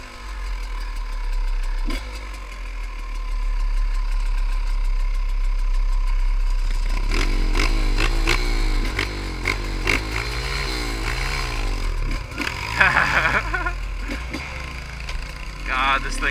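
A pit bike engine with a touchy clutch idles steadily up close, then revs repeatedly in rising and falling swells, with a sharper burst near the end.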